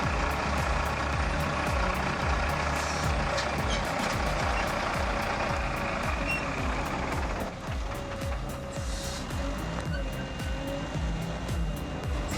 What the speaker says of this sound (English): This Volvo loader can handle an incredible 19 tons.